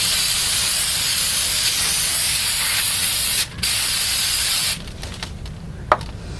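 Brake cleaner sprays onto a 2014 Toyota Sienna's front brakes in a loud, steady hiss, with a brief break midway, then cuts off, leaving quieter scuffs and a small clack.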